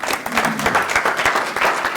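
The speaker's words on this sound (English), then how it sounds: "let's give a good round of applause for our speaker" Audience applause for a guest speaker at an Optimist Club meeting, steady dense clapping filling the whole two seconds at close range, with no voices standing out.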